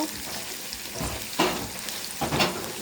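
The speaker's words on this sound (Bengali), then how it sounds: "তেলের ভিতর প্রথম দিয়ে দেব পেঁয়াজ কুচি, ভালোভাবে রান্নাটা" Chopped onion fries in oil while being stirred with a wooden stick, a steady soft sizzle broken by a few louder scraping stirs.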